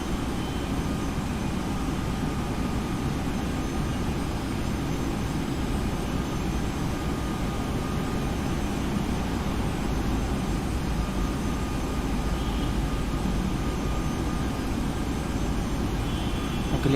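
Boeing 737-800 jet engines in the X-Plane 11 flight simulator, a steady low droning roar with a faint whine above it, constant and unbroken throughout with no talking.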